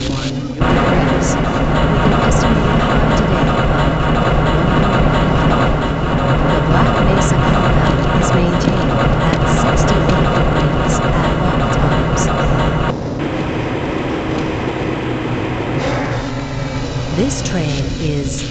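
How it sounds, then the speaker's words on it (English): Tram ride through the Black Mesa Research Facility in the video game Half-Life: Blue Shift, a continuous loud low rumble and clatter of the moving train, steady throughout with a slight shift near the end, under a calm public address announcement. "This train is inbound from the Area 8 topside dormitories to the central transit hub in Area 9."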